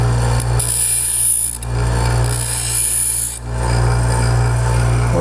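Harbor Freight angle grinder with an 80 grit disc sharpening a tungsten electrode, a loud high whine and grinding rasp in two bursts over a constant motor drone, close and steady.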